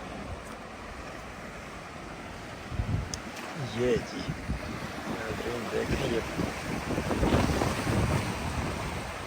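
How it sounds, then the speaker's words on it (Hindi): Sea waves wash against a Scottish harbour at Dunbar while wind buffets the microphone in a steady roar, with someone talking over the surf throughout. "पानी की लहरें वो बड़े ज़बरदस्त किस्म की आ रही है जी।"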